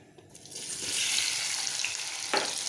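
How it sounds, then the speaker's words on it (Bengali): Hot oil bursts into a loud, steady sizzle as potatoes hit the pan, hissing continuously with a brief clatter near the end. "আলুটাকে ভেজে নেব"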